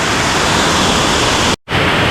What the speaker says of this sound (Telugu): ఇప్పుడు వర్షం దంచేస్తుంది